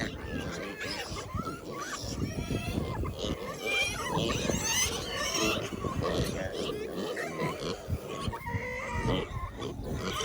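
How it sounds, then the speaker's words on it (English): Pigs on a small farm grunt and squeal in a dense, continuous chorus, loud and close, with many animals calling at once for the full stretch. "Apparently all the pigs think it's feeding time."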